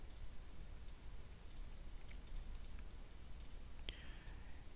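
A computer mouse clicks faintly, with scattered single and paired clicks spread irregularly over quiet background hiss.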